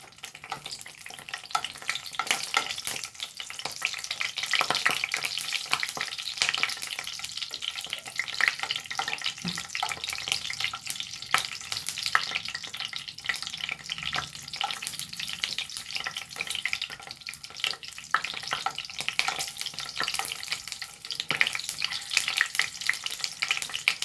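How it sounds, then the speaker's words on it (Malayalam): Chillies sizzle and crackle steadily in hot coconut oil, a continuous frying hiss with occasional pops and stirring. "ഞാൻ ആദ്യം നമ്മളെടുത്ത് വെച്ച രണ്ട് മുളക് ഇതാ ഇതൊന്നും ആദ്യം വറുത്തെടുക്കുന്നുണ്ടേ"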